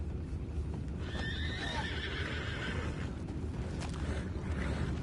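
A horse whinnies in Red Dead Redemption 2, the neigh rising clearly over a constant rumbling background with hooves clip-clopping, no voices present.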